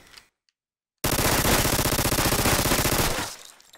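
A TMP submachine gun fires in a video game, one sustained rapid burst of evenly spaced shots lasting about two seconds. It is loud and close, preceded by brief silence and followed by a quick decay.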